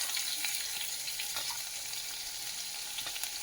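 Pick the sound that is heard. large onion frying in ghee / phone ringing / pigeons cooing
large onion frying in ghee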